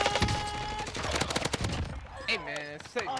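Shotgun fire in the shooter game Rebirth: a rapid string of sharp, punchy blasts across the first two seconds, followed by a voice speaking over fading game sounds.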